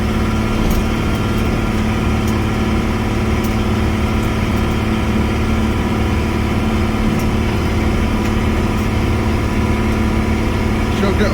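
A car engine runs continuously in second gear, a loud, steady droning hum with rumbling road noise and a voice talking over it.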